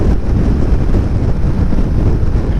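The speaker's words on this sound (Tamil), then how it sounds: "செமையாக காத்தறியுது. அதுவும் கிராஸ் விண்டு தான்" Strong crosswind roars over a rider on a motorcycle on an open road, a steady, dense broadband buffeting that never lets up. No voices are heard.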